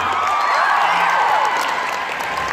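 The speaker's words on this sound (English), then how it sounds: "give him a round of applause" An audience at VidCon Australia 2017 gives a round of applause, a dense, sustained wash of clapping that stays fairly loud for a couple of seconds, with faint tonal sounds mixed in.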